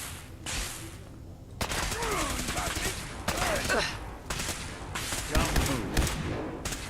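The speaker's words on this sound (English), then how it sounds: "Someone's shooting at us." Gunfire in a video game, sharp bursts of rapid shots in several clusters, loud and close, with a voice talking between and under the volleys.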